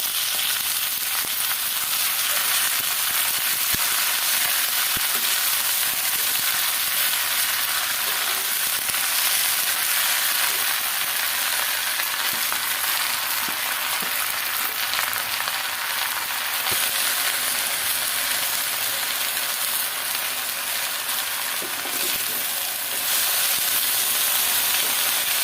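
Leafy greens frying in a pan, giving a loud, continuous close-up sizzle and hiss that holds steady throughout with no pauses.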